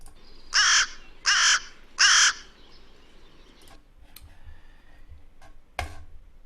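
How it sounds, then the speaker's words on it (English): Crow in a park giving three loud, evenly spaced caws close by, followed by quiet background with a few faint ticks and a sharp knock near the end. "I know that that's a crow"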